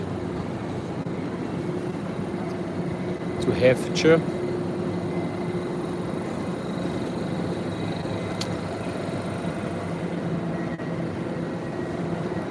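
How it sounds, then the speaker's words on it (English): A class 720 electric train sits at London Liverpool Street station, giving off a steady, even rumble and hum while a voice talks over it and a brief louder passage rises near the start. "This train here, this class 720, is about to leave"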